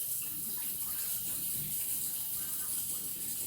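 Tap water runs steadily into a cooking pot being refilled for noodles, a continuous hissing splash at low volume with no talk.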